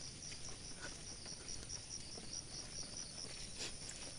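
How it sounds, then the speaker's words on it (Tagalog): Crickets chirp in a steady, faint, high-pitched wash during a morning walk. The sound is a dense, continuous insect drone with occasional soft bird notes, and no one talks. "Kuliglig, huni ng ibon."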